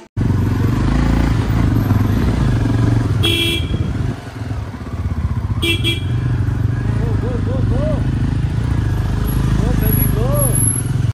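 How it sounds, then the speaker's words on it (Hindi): Several motorcycles rumble and idle outside a hotel in Ladakh, a steady loud engine drone with a few horn toots, while people chat nearby. "ये चेक कर लो कितनी बाइक्स आई है होटल के जहाँ हम लोग रुके हैं"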